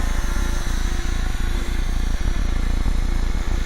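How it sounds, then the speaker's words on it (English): A smooth-running helicopter engine runs steadily nearby, a loud, continuous mechanical drone with a fast rhythmic pulsing throughout. "What's a smooth running helicopter?"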